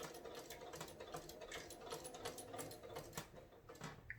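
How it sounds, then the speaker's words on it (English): A sewing machine stitches binding onto a quilt, using a walking foot, with a steady rapid mechanical chatter of needle strokes that runs continuously at moderate, close level. "if you have a walking foot, load it now before you start sewing this part."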